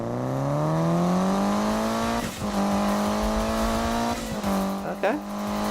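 A loud Mitsubishi Evo in Need for Speed with a raspy, rumbling aftermarket exhaust holds a steady drone, then briefly drops and rises twice as gears change near the end.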